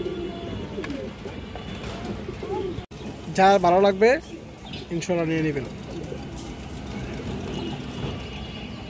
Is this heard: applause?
no